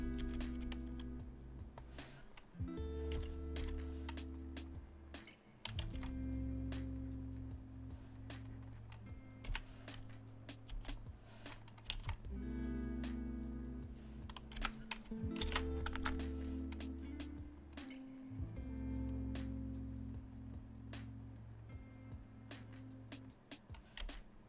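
Rapid typing on a computer keyboard, close and fairly quiet, with steady key clicks in bursts over a low background hum.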